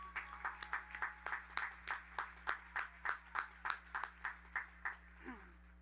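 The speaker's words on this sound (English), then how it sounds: "Please, one more round of applause for Dr." Sparse rhythmic clapping at an undergraduate commencement ceremony in 2022. About twenty evenly spaced claps sound like a few people clapping steadily under a constant low hum, then stop.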